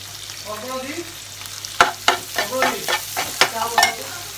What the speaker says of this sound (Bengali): পরিমাণ মতো সাদা তেল দিয়েছি এবার এক এক করে আমি সবজিগুলো সব দিয়ে দেবো প্রথমেই দিচ্ছি টমেটোটা